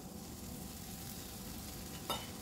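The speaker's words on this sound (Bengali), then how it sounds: "এবার যে কচুগুলো ভেজে রেখেছিলাম সেই কচুগুলো আমি এখানে অ্যাড করে দিচ্ছি।" Fried taro pieces sizzle in a pan of cooked masala, a steady close frying hiss with soft stirring and one sharp scrape of a utensil near the end.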